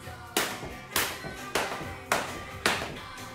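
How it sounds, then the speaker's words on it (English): Hands slap against the hips during penguin jumps in a no-equipment workout, five sharp claps evenly spaced about half a second apart, near and fairly faint with no talk. "do what we call a penguin, where you clap your hips twice as you jump"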